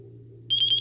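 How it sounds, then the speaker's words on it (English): A high electronic beep sounds three times in quick succession over a low steady hum, following a brief quiet stretch, from a drone radio transmitter in binding mode. "You hear that beeping? It is now ready to be bound to the craft."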